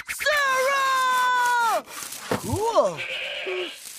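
A cartoon goat bleats in a long, wavering cry in Ed, Edd n Eddy, followed by shorter voiced animal-like calls and clatter, close and loud.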